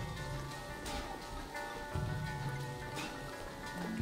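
Steady rain hisses in the fantasy adventure game Superbrothers: Sword & Sworcery, a soft continuous patter with a low droning tone beneath and faint drips standing out at intervals.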